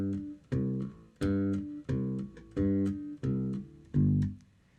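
A bass guitar plays a root-and-fifth phrase of seven even, sustained notes, moving up to the fifth three times and then down on the fourth, clear and close with nothing else playing.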